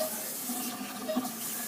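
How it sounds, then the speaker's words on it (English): Running water from a tap rinses an animal's mouth during veterinary dental care, a steady splashing flow with a faint tonal hiss, close and continuous for under two seconds with no talk. "Now we can rinse it."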